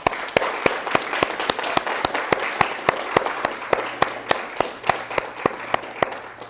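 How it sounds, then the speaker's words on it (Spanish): Applause rises in a church service, led by sharp, evenly spaced claps in a steady rhythm close to the microphone over a softer spread of clapping from the congregation, with a faint voice underneath. "Démosle un aplauso al Señor."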